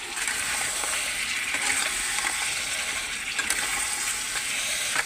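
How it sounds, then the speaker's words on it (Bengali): Crab curry being stirred in a pan after garam masala goes in, a soft continuous hiss and sizzle with faint scraping strokes, fairly quiet and steady, no talking. "এবার দিয়ে ভালো করে নাড়িয়ে দেবো।"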